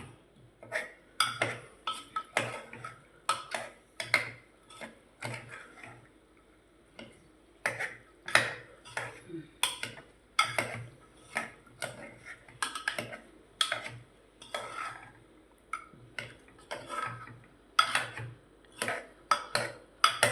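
A spoon clinks and scrapes against a cooking pot while garam masala is stirred into a bottle gourd and chana dal curry, producing irregular light metallic taps, close and fairly faint, with occasional talk.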